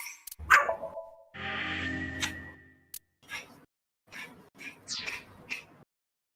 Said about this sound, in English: I love when Batman is barking to the point at which he gives, like, he's breathing heavy.